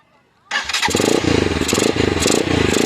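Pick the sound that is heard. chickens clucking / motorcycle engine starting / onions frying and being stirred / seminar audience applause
motorcycle engine starting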